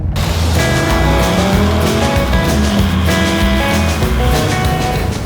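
A 1969 Chevrolet Camaro with a new crate motor and 6-speed transmission, its engine running loud and steady with a low rumbling idle and a slight shift in tone partway through.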